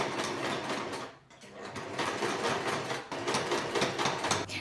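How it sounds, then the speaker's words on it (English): A sewing machine runs close and steady while stitching a sari, with a rapid mechanical whir and one brief slowdown partway through. "Now before I start stitching, I fold a small section of the sari from the top like an edge"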